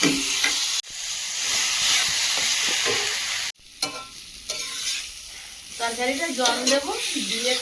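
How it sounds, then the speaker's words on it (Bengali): Potato pieces stirred and fried with spice paste in a pan, producing a loud, continuous sizzling hiss with scraping stir strokes, a brief break, and faint talk toward the end. "এবার আলুটা দিয়ে দেবো মশলার থেকে ভালোভাবে কষে নেবো আলুটা"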